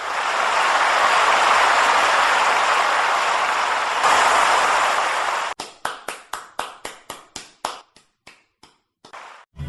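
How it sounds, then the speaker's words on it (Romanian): Church congregation breaking into loud, dense applause that cuts off abruptly, followed by a lone pair of hands clapping out of sync, about a dozen sharp separate claps with gaps between them. "Aplauze, vă rog!"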